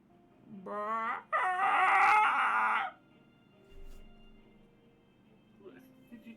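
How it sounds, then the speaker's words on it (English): Chickens cluck and then a rooster crows loudly and close, a harmonic burst lasting over a second, followed by quieter scattered clucks and faint shuffling in a hushed space. "RJ, as all these chickens leave, you are left in this dark laboratory, and you hear."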